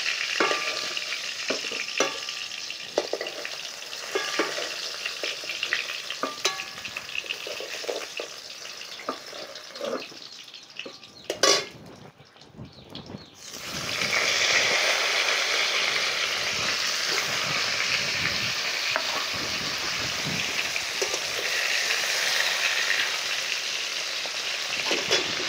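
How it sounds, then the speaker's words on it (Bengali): Pointed gourd (potol) frying in a pan of oil, a loud, continuous sizzle with stirring scrapes that briefly drop away before the frying resumes even stronger. "পটলটা আর একটু করে ভেজে নিই।"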